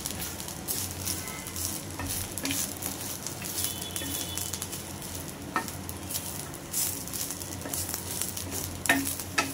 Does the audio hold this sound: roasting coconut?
yes